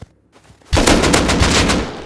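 An LR-300 rifle in the video game Rust fires a rapid burst of loud, close shots after a brief quiet start, with the shots running together into a dense rattle.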